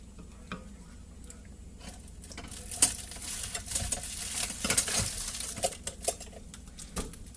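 An onion being cut with a knife at home while cooking spaghetti and meatballs: a scatter of crisp, uneven chops and knocks on a board, some sharper taps standing out, close and moderately loud with no talking.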